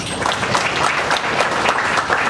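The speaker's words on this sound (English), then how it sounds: "Please welcome him with a round of applause." A room of lecture attendees claps steadily to welcome Ambassador Sood ahead of his talk on India's disarmament and non-proliferation policy, a dense, even patter of many hands that holds at a constant level throughout.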